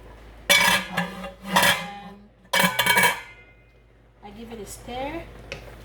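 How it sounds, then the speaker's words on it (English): Cooked spinach is stirred in a pot, with a few loud metallic scrapes and clanks of a utensil against the pot, followed by a voice speaking briefly. "After cooking my spinach for 5 minutes, I give it a stir."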